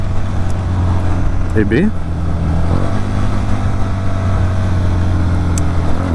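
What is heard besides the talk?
vehicle engine sound recorded with a smartphone mic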